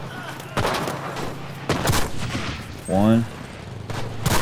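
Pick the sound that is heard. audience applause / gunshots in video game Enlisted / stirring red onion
gunshots in video game Enlisted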